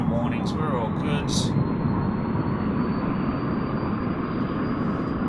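Aircraft engines in a flight simulator game spool up for takeoff as a steady, broad roar with a high whine, accompanied by a few short clicks near the start.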